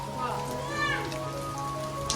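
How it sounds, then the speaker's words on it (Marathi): Soft patter of rain falling on a surface, steady and fairly quiet, with a few faint voices and tones mixed in. "आता मस्तपैकी पावसाचं आगमन झालं आहे"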